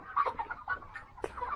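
Chickens cluck and murmur at a poultry farm on an overcast morning after rain, a steady cluster of soft calls with one sharper squawk near the end, no talk.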